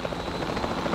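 A helicopter in the video game Jurassic World Evolution 2 gives a steady close rotor whir and thrum, fairly loud with no talk over it.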